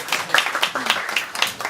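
Audience clapping at a Korean blockchain insurance meetup, a scattered burst of hand claps with uneven rhythm and no voices over it.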